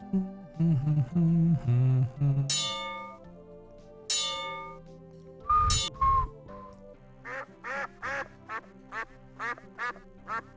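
Cartoonish duck quacks from the 1993 PC adventure game Simon the Sorcerer, a run of short evenly spaced quacks near the end, clear and close, following tonal game sounds and music-like notes.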